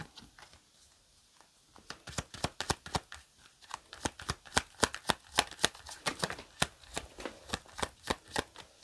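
A deck of tarot cards is shuffled by hand with a quiet start and then a brisk run of about twenty crisp riffling snaps in steady rhythm, close and alone.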